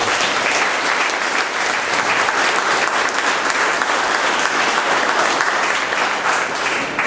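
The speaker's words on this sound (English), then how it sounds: "Round of applause." A community gathering at Kansas City Oasis breaks into loud, sustained applause, a thick, even wash of many hands clapping close by for the full stretch without letup.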